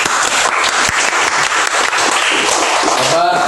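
A class of students applauds at the end of a computational thinking lesson with dense, continuous clapping that carries at a strong level from start to finish.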